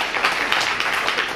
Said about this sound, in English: you don't have to clap after each one of these sentences